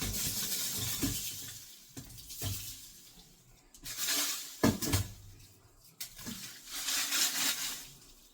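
Dried chillies are dry-roasted in a pan for kuzhambu podi, making intermittent scraping and clattering rattles at moderate loudness with quieter gaps between stirs and no voices.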